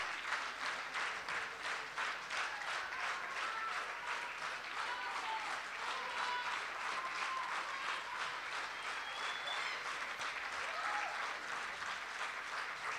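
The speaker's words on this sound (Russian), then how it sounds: "Ваши громкие аплодисменты, Илье." An audience applauds at a gala concert of competition laureates, sustained even clapping for the whole stretch, fairly distant and unbroken, with no voices on top.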